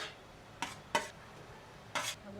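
Green peas and grated potato are stirred in a pan with three short, soft scraping strokes over a quiet background, close and brief.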